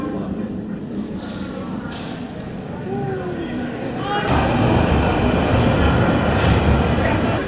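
A London Underground train rumbles and screeches, growing louder and fuller as it arrives, with people talking nearby.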